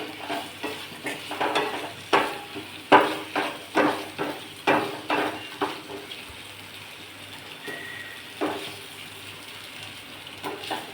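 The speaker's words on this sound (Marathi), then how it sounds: "हे वांग कापलेलं वांग ह्याच्यात टाकूया. इथे छान मिक्स करूया." A spoon scrapes and stirs cut brinjal in a frying pan for a wedding-style brinjal curry, with a regular series of clattering strokes over a soft sizzle, close and moderately loud, slowing toward the end.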